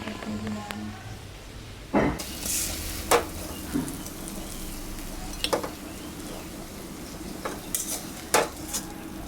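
Water lily (shapla) stems frying in plenty of hot oil, with a steady soft sizzle under sharp metallic clinks and scrapes of a utensil against the pan.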